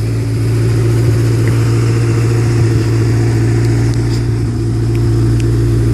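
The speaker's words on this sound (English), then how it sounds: "we got a new muffler. We put a MagnaPack." A 1974 Ford Pinto wagon with a rebuilt 2.3 liter engine and a MagnaFlow MagnaPack muffler, rumbling steadily at a loud, close, even idle with a deep throaty drone and no talk.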